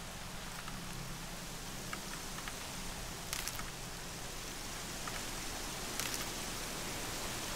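Heavy wind-driven rain in Horizon Zero Dawn, a dense steady hiss of downpour with faint patter, continuous and even throughout.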